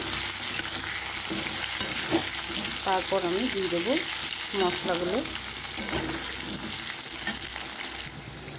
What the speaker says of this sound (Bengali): আলুটাকে আমি ভালো করে ভেজে নিলাম ওরই ওপরে আমি দিয়ে দিলাম পটল পটলটাকেও আমি একটু ভেজে নেব